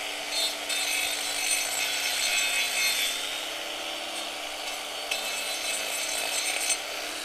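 A cow's hoof is trimmed and levelled in a rollover crate: a steady, close, abrasive rasping and grinding runs almost without a break, with slight surges in the middle and near the end.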